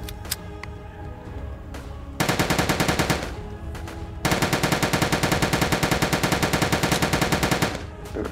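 Automatic gunfire in the video game Soviet Soldier: sustained rapid bursts, loud and dense, broken by short pauses near the start and again between bursts, with no talk.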